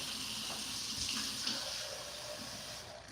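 Warm water runs steadily from a kitchen tap in a small trickle, poured for making simple syrup, a continuous close splashing hiss with no talking.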